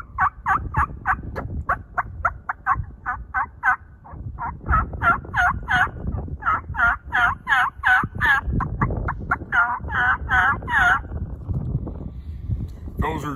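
Rapid series of turkey putts and yelps from a hand call imitating a mature hen, sharp repeated notes in bursts and runs, close and loud over low background noise.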